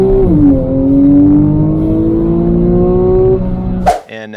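A Porsche 911 Carrera S with a 3.8-liter flat-six and PDK gearbox in Sport Plus mode revs and pulls hard, its engine note climbing loud and close before cutting off abruptly near the end.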